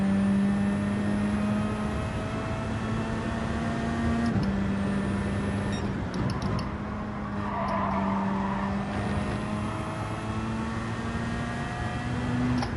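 Gran Turismo 7 car engine revving hard and steadily, a loud sustained tone with a brief dip in pitch as it shifts, running continuously with no talk.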